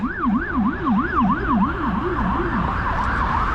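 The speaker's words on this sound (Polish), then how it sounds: "To Rambler, taki głośnik niskotonowy, który wprowadza w rezonans blachę w autach poprzedzających" An ambulance siren with a Rumbler low-frequency speaker wavers quickly up and down, with a deep, low-pitched sweep under a higher one. It is loud and close and repeats in a fast rhythm.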